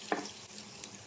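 Soft, steady sizzling of ginger frying in a pan for squid adobo, with a few light clicks of stirring.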